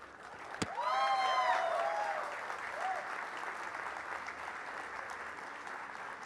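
Audience applause and cheering at a stand-up comedy performance during a literature festival in Bengaluru, opening with a sharp snap, then broad clapping with a few whoops and shouts, swelling and then settling into steady, slightly softer clapping.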